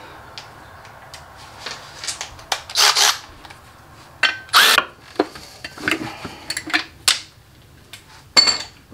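A wrench loosens 15 mm bolts on a VW 09G transmission: irregular metallic clicks, scrapes and clanks of tool on metal, close and intermittent with quiet gaps between bursts.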